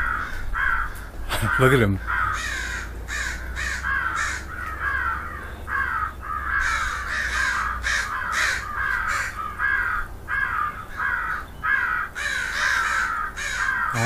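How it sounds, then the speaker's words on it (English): Many crows caw loudly and repeatedly in a swarm overhead, drawn in by a Primos Turbo Dogg crow caller, harsh calls overlapping near and far while someone speaks briefly. "Now I'm being swarmed by crows."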